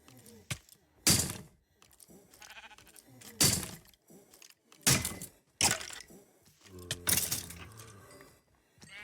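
Sheep bleat in the Minecraft MineFantasy Reforged game, several short bright cries spaced a second or two apart amid clicks, thuds and other game noises, near and fairly loud.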